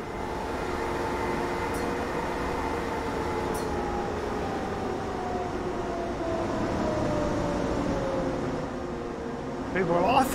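A train in the game Transport Fever 2 runs steadily with a continuous rumbling drone and a gliding tonal whine, while a voice speaks over it.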